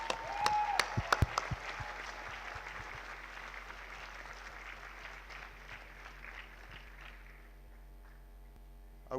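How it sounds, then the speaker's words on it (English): An audience claps for the teachers at a graduation day ceremony in a dense, steady round of applause that starts with a few sharp louder claps, then thins and fades toward the end. "A big round of applause for all our teachers"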